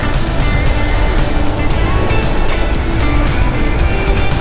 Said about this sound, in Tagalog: ayun yung dagat